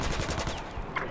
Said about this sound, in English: Oh, that's a gun.